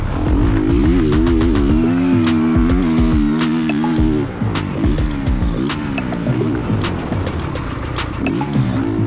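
A motorcycle runs a full lap of a motocross track, its engine loud and close throughout, revving up and dropping back in constant rhythm with brief throttle cuts and clattering over the terrain.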